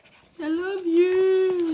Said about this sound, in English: the dog wants to go out, so you can probably hear her running around or crying